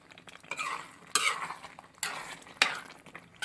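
Mixed vegetable kurma stirred in a pan, a spoon scraping and knocking against the metal in a few uneven strokes over a faint simmer; close but fairly quiet, with no voices.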